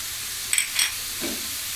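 Spices are stirred into a chicken and vegetable filling in a pan, with a steady soft frying hiss and a couple of brief scraping strokes of a spoon, close by and without speech.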